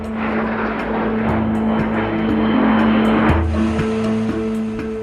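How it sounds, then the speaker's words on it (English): A Sukhoi Su-25 jet fighter flying in an aerobatic display, a loud, steady engine roar with a droning tone that shifts pitch midway as it passes. "Among these aerobatic jet fighters is the Sukhoi 25."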